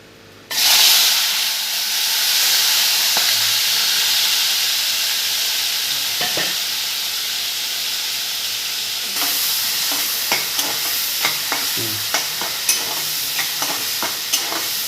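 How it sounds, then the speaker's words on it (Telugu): Sizzling in a pan while cooking a sea fish curry with green chilies, tamarind and spices: a loud, steady hiss bursts in at once, later joined by scattered sharp clicks of stirring. "అదే ఇలా వేయించుకుంటున్నానండి"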